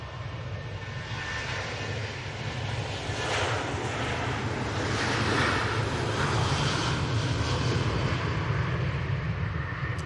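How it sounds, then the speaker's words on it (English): Airliner engines spool up at Manchester Airport, a loud, steady broadband roar that swells gradually over ten seconds, with an odd hollow echo coloring the sound as it builds. "Sometimes you get a couple of weird echoes when the planes spool up, and that was one of them."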